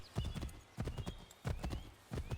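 Horse hooves clip-clop in a rapid, uneven trot inside Assassin's Creed 3, loud and close, with repeated hoofbeat bursts over about two seconds and a faint whinny-like tone behind them.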